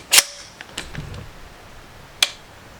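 Two sharp, isolated trigger clicks from a Palmetto State .308 rifle being dry-fired, the first click near the start and a second after a pause as the trigger resets, with a faint mechanical rattle in between.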